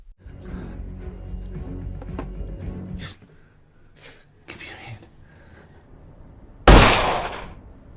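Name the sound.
gunshot in a film scene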